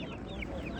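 A young rooster at a poultry and bird market in Ganja gives a few short clucks over the low murmur of the market around it.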